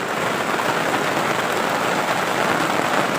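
Heavy rain falling steadily outdoors in a rural farm area, a dense, even roar of drops at constant loudness with no voices.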